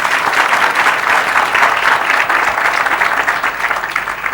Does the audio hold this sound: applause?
yes